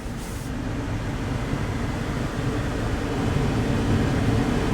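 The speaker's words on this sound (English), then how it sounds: "When you push that, it increases the motor speed." A vehicle's blower motor running at increased speed, giving a steady, broad airy whoosh with a low mechanical hum that holds constant throughout and grows slightly louder toward the end.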